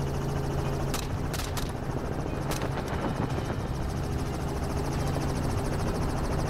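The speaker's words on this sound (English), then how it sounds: "The helicopters commonly used for this purpose include lightweight models such as the Robinson R-44" A Robinson R-44 helicopter roars steadily with loud, continuous rotor thumping, with a few sharp cracks like distant gunshots in the first few seconds.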